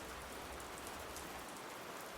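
Steady rain pours down in an audio drama scene, a dense, continuous hiss of drops striking surfaces that holds evenly from start to finish with no voices over it.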